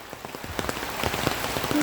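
Rain patters steadily on surfaces during mushroom foraging in the forest near Yasothon, Thailand, a dense close spatter of drops with no voices.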